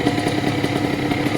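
A 78cc ATOM 80 two-stroke light aircraft engine fitted with a silencer runs at a steady, even speed, producing a close, continuous buzzing drone with a fine rapid pulse and no voices.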